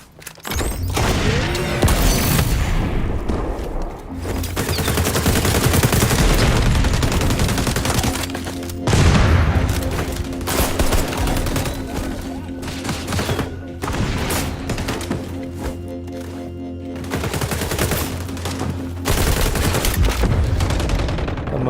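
Shotgun fire and fusillades in a multiplayer shooter video game, with dense, loud bursts of repeated blasts that run almost continuously over a steady game soundscape.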